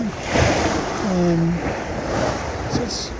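Broad wind and wave wash while sailing an Amel Super Maramu across New Zealand's Cook Strait in a 20-knot north-northwesterly with an outgoing tide, steady and close, with a brief tonal whine midway and faint voices.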